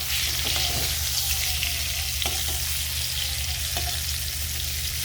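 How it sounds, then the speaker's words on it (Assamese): Pointed gourd (potol) frying in oil in a covered pan on the stove gives a steady, loud sizzle throughout, with a few light clinks of a utensil turning the pieces. "মই পটলখিনি প্ৰথমতে ভালকৈ ভাজি ল'ম"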